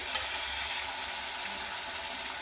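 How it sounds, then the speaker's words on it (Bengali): Spice paste for a fish curry with potatoes frying in a pan, a soft continuous sizzle with faint stirring scrapes, quiet and close with no talk. "মশলাটা কিছুক্ষণ কষিয়ে নেব"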